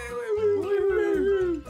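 A dog lets out a close, loud, drawn-out howl that wavers up and down in pitch for a couple of seconds with no talking over it.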